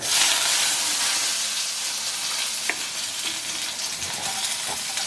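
Mustard seeds and curry leaves fry in hot oil as a steady, close sizzle and hiss that runs throughout, with a couple of faint utensil taps and no voices.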